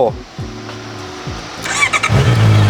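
A used Honda CB650R with 1,700 km on the clock and its factory tank: falling engine notes at first, then the motor catches and settles into a loud, steady, deep idle close by.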